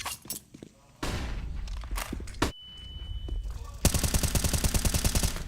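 Counter-Strike gunfire during a professional esports match: scattered single shots and short bursts, then a sustained rapid automatic volley near the end, loud and close, with footsteps and game effects.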